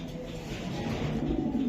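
Racer pigeon cooing, a low soft throaty coo repeated under steady background murmur, close by and moderately quiet.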